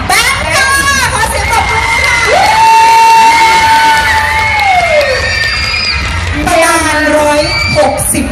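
Loud crowd at a Songkran dance event in Khon Kaen cheers and whoops nonstop, with shouting voices and a long sustained yell rising over the roar; clapping is not clearly separable from the shouting.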